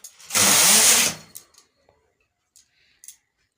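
A knitting machine carriage runs once across the needle bed to knit a stitch row for a rose pattern. It makes a single loud rasping sweep lasting under a second, followed by a few small faint clicks, with no talking.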